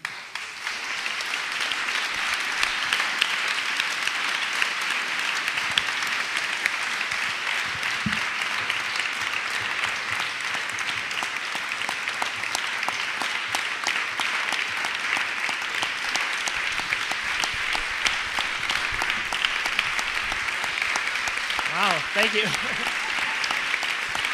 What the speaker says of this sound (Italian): Gli facciamo un grande applauso.